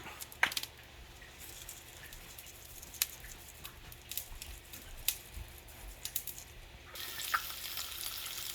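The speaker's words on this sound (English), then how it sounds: "So it's starting to saute a little bit." Rock greenling fish sautés in oil with seasonings, a faint, steady patter of light crackles and scattered pops heard close, with the sizzle growing a little fuller toward the end.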